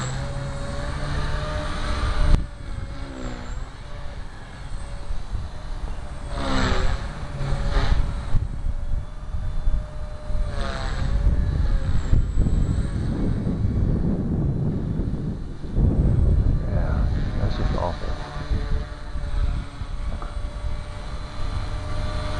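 A Trex 250 flybarless RC helicopter flies through flips, its small motor and rotor whining steadily with rising and falling pitch sweeps as it bobbles through the manoeuvres, fairly close and continuous throughout.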